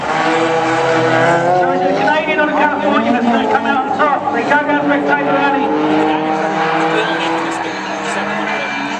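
A Nissan race car competes in a two-wheel-drive event at Pikes Peak International Raceway in June 2011, its engine droning continuously under loud, steady commentary.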